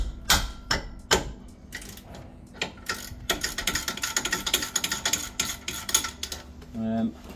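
A ratchet with a 17mm socket loosens a car's brake caliper bolt, giving quick rapid clicking bursts mixed with a few sharp metallic knocks, close up, with a brief low buzz near the end.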